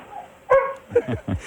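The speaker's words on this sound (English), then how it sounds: "That was not a skunk. That was a dog" A pet dog gives a few sharp barks and yips close to the microphone, in quick bursts with short pauses between them.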